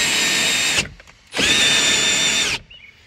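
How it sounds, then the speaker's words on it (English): A loud electric drill mounted on a car window whirs steadily, stops briefly, then runs again for over a second, close up with a high motor whine. "Drill mounted on a window, part two."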